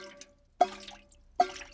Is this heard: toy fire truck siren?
no